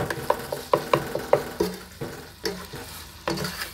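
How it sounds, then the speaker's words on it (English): Ground meat browning in a pan for cowboy stew, a steady soft sizzle punctuated by regular scraping and knocking strokes of a utensil stirring against the pan. "So I'm going to brown this up."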